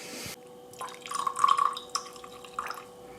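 Water pours and drips into a homemade scalp serum mixture with lavender, a splashy trickle with clinking droplets and glassy taps, close and fairly quiet, unevenly swelling and fading.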